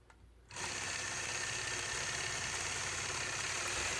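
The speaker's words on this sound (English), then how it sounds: "I'm going to stitch an angular line all the way through to the opposite side of my block" A sewing machine stitches an angular quilting line across a 9 patch quilt block, starting after a brief quiet moment and then running at a steady, continuous fast hum up close.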